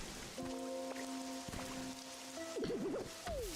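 Steady rain hisses across a scene in the video game Pokopia, with chiming game tones and a sliding melodic effect layered over the downpour.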